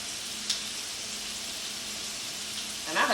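Steady broadband sizzle of Brussels sprouts frying in hot bacon grease, close and continuous, with a faint clink near the end.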